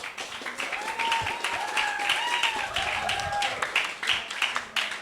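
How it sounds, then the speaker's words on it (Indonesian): Applause from a school audience at a talkshow event at SMK Negeri 2 Tondano, welcoming members of the Wale Jiva community; steady dense clapping fills the whole stretch with crowd noise and voices mixed in. "terus torang kasih tepuk tangan for tongpe teman-teman dari komunitas Wale Jiva"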